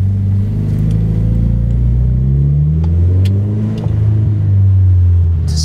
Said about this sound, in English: So clutch in, first gear, let go of the clutch to the bite point, and give it some gas, and then start moving.